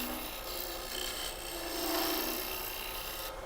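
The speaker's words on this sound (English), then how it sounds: "what I'm doing right here is just scraping" A lathe tool scrapes wood while hollowing a turned ornament, giving a faint, steady rasping hiss that swells slightly midway, with no talking.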